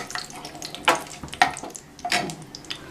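Cardamom pods and bay leaves dropped into hot oil for an egg chop curry give a brief hiss and crackle that rise in a few bursts over a steady low sizzle, close and moderately loud.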